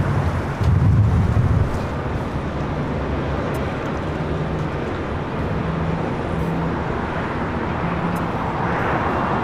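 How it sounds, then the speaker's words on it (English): Sun Country Boeing 737 airliner at LAX heading to runway 25 right: a steady broad jet roar with low rumble, continuous and moderately loud throughout, a louder low-frequency swell near the start. "Looks like that Sun Country 737 going to 25 right."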